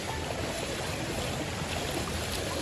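Depalyon Falls waterfall in General Nakar, Quezon, a steady broadband rush of falling water, continuous and fairly loud throughout with no voices.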